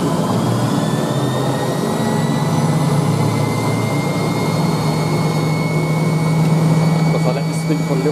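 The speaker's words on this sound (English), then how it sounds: "I let this spin for a little bit longer because it's the final spin." Hoover Spinarinse 3012A twin tub washing machine on its final spin after a new belt, a loud steady whirring drone with a rising hum, continuous throughout with no talk.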